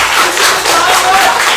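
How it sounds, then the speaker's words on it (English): A council meeting audience gives a round of applause, a steady, dense clapping from many hands that carries loudly through the whole short stretch. "I appreciate the round of applause."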